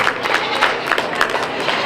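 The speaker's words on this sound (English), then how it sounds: "Give a round of applause for our Pygmy Grand Champion Drive" Applause from a crowd at a youth fair goat show, greeting the Pygmy goat grand champion drive; steady dense clapping throughout, moderately loud, with some crowd noise mixed in.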